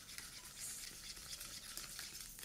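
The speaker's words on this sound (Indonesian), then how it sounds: "Dan aduk-aduk sampai rata." A spoon stirs a seasoning mix of mushroom broth, sugar and salt, a soft, continuous scraping and swishing at close range, faint and without speech.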